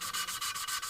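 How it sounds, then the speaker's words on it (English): A new valve is lapped into its seat in a 1996 Hyundai Accent engine with a light sandpapery compound, giving quick, soft rhythmic scrubbing strokes back and forth, close and faint, with no talk. "you just rub that valve back and forth"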